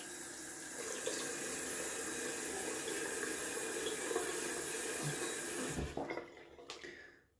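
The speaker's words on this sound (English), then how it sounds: "Gonna add some cold water to the face" Cold water streams steadily from a bathroom tap during a wet shave, a constant rushing splash that stops abruptly near the end with a few drips and clicks.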